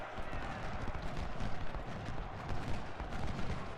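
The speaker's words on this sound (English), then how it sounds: "You can see just how quickly they're firing their volleys off." Repeating rifle volleys in Ultimate General: Civil War at Spotsylvania Courthouse, a dense rumbling stream of distant battle gunfire with irregular crackling bursts, continuous and muffled throughout.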